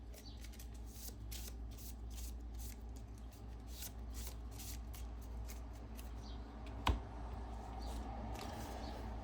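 A deck of game cards being shuffled by hand in a quiet room: a long run of soft, rapid riffling and sliding flutters, close but quiet, with one sharp tap near the end.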